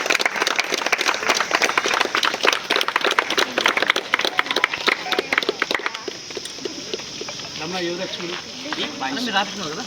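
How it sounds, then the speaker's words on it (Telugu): Audience applause at a KPG school alumni gathering: dense, fast clapping from many hands fills the first six seconds, then fades out as voices talk. "claps claps"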